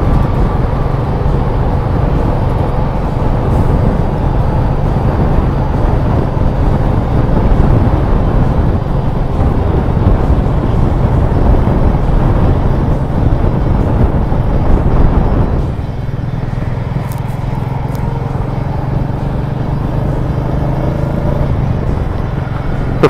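A motorcycle rides along the Yamuna Expressway in Greater Noida, with a loud, continuous roar of engine and wind buffeting that eases slightly after a while and has no talking over it.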